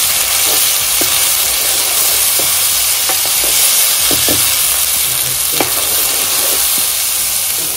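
Garlic and curry leaves fry in hot oil for a tempering as chili chutney is added, giving a steady close sizzle with occasional sharp pops and stirring clinks, no voices.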